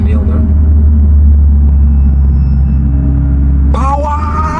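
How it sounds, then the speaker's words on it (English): Close, loud and steady rumbling engine of a manual-transmission car pulling in second gear on a steep South African mountain road, with a sudden rise in pitch near the end. "So I'm in second gear. I'm driving in manual now."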